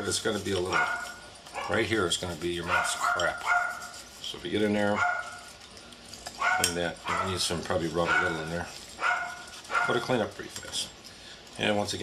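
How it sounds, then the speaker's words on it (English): Several dogs bark at rain outdoors, repeated sharp barks heard from a distance beneath steady close talk during the cleaning of a titanium gold .50 AE Desert Eagle pistol. "excuse the dogs barking. Barking at the rain outside."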